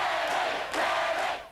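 A large crowd of rugby fans cheers and roars at a clubhouse, a dense continuous swell of voices with a brief surge partway through before tailing off.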